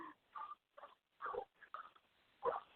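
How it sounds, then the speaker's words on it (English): Several dogs bark in short, separate bursts, with pauses between the barks and a louder bark near the end, fairly close and without any talk over it. "Well, my dogs are freaking out"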